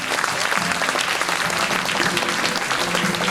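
A crowd at a school environmental education event claps for a student team after their performance, a steady, loud, unbroken round of applause with no voices over it.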